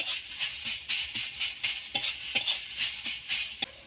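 Onion, tomato and garlic paste sizzles in a frying pan, with a steady hiss and the soft rhythmic scrape of stirring, close and moderately loud.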